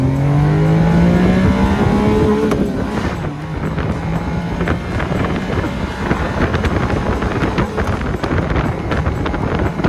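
A Honda Beat kei car's engine revs hard toward 9,000 RPM, a loud rising howl that climbs, drops briefly at a shift, and continues under heavy road and wind roar from inside the car.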